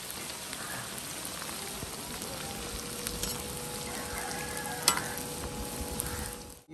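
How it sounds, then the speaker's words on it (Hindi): Bitter gourd seeds and peels fry steadily in hot oil, a dense, even crackling sizzle that holds throughout with a brief louder pop near the end. "ये छिलके इसमें डालनी है तो इनको भी फ्राई कर लेंगे"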